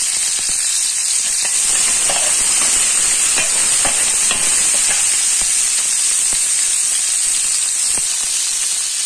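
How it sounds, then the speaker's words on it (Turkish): Onion and garlic sautéing in a hot pan, a loud steady sizzle and hiss with scattered crackles and stirring taps, no talking. "Soğanla sarımsağı kavuracağım şimdi."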